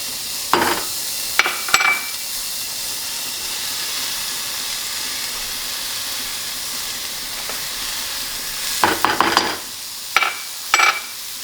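Onion, pepper and garlic are stirred in a small pan, giving a soft continuous sizzle and hiss with a few sharp utensil scrapes and clicks near the start and end.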